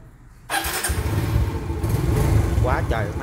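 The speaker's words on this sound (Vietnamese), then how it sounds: "Nổ máy cái nha mày." A Suzuki Viva motorcycle engine starts abruptly and settles into a loud, rough idle close by, with a person talking over it.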